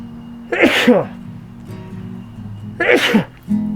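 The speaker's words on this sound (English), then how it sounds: "Sneezing." Two sharp sneezes, a couple of seconds apart, burst out close and loud over a low hum.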